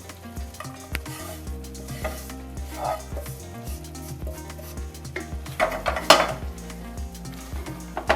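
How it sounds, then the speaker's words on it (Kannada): Ghee-fried coconut, raisins and cashews tipped into a pan of sweet pongal and stirred in, with metal spoon scrapes and clinks over a soft sizzle, close and steady with a few louder knocks. "ಈಗ ನಾನಿಲ್ಲಿ ಏನು ಕೊಬ್ಬರಿ ದ್ರಾಕ್ಷಿ ಗೋಡಂಬಿ ತುಪ್ಪದಲ್ಲಿ ಹುರಿದಿದ್ನೋ ಅದನ್ನು ಇದಕ್ಕೆ ಹಾಕ್ತೀನಿ"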